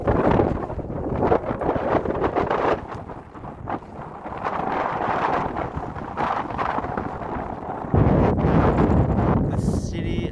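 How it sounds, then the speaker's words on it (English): Strong wind buffets the microphone in heavy, uneven gusts at a high lookout in Amsterdam in January, a loud roaring rush that continues without pause across the whole stretch. "It's windy and it's cold up here."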